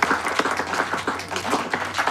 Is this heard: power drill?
no